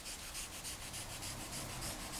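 A compound sponge polishes a corroded metal roof carrier from a Passat, giving a loud, close, hissing rub in fast back-and-forth strokes, about four per second, with no talking.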